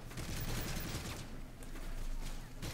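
Muffled, continuous rattling gunfire from Modern Warfare 3 survival mode on the Seatown map, a dense, quiet fusillade of shots running through the whole stretch with no talk over it.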